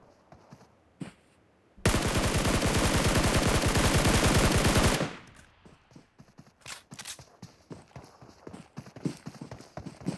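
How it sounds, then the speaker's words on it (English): Automatic gunfire aimed at a vehicle in a PUBG Mobile esports match: one loud, rapid, continuous burst of about three seconds, followed by quieter scattered clatter and game noise. "The now firing away at the vehicle."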